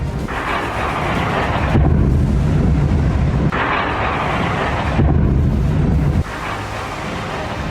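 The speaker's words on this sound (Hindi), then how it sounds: "एक के बाद एक 4 धमाके और हर धमाके के बाद एक जैसी तस्वीर" Loud, rumbling blasts from strikes on Kharkiv, Ukraine, roll in one after another, each a long roar of low noise like distant explosions, with no voices.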